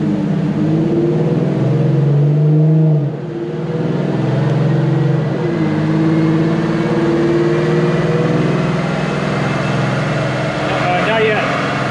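An Infiniti Q50 engine revs during a dyno run, a loud, sustained roar holding and rising in pitch with a brief dip partway through, while voices talk nearby.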